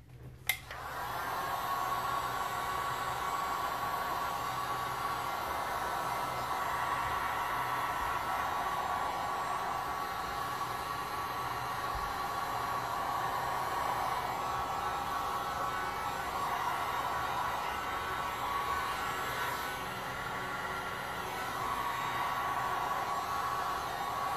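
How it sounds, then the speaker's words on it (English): A heat gun blows over a layer of resin art, making a steady, close, breathy roar that holds at an even level for the whole stretch after a brief click at the start. "might have to use the heat gun instead"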